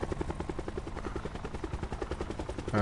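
A helicopter in Call of Duty Black Ops 4 Blackout thrums with rapid, even rotor beats over a low engine rumble, held at a steady moderate volume, with a brief harsher burst right at the end.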